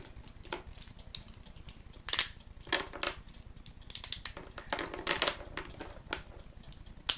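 Wax crayons stripped of their wrappers are snapped into pieces by hand on a non-stick craft mat, giving a series of sharp, close cracks and clicks at an irregular rhythm.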